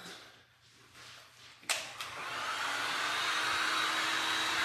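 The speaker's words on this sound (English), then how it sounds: "So I'm going to hit this with the dryer." A heat dryer clicks on and blows steadily over a glass and resin art piece, a sharp switch-on followed by a constant close whooshing hiss.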